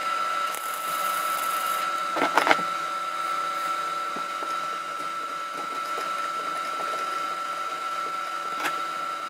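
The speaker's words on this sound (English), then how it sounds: "That's how you take out broken studs with a welder" A welder is used to take out broken studs, giving a steady electrical buzz and hum throughout, broken by a couple of brief crackling bursts near the middle.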